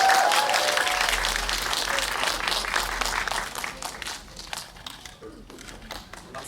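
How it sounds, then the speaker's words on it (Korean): Audience applause at a Korean film screening event as the actors and director are welcomed, loud sustained clapping that gradually thins and fades toward the end, with some voices mixed in. "큰 박수 부탁드립니다"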